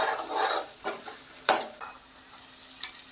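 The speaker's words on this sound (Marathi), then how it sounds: "कांदा लसूण मसाला आणखीन लाल तिखट मी एकत्र करून घेतलेले आहे ते घालते आहे आणि फोडणी छान ढवळून घेते आहे" A spoon stirs a sizzling pan tempering of onion-garlic masala and red chili powder for a fenugreek-leaf amti, with soft scrapes and clinks against the pan over a low, steady fry.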